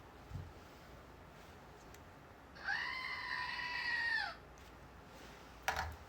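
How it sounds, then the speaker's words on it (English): A screaming goat toy lets out a single loud, drawn-out bleating scream lasting almost two seconds, set against quiet room noise with a few small knocks and no talking. "Got my screaming goat."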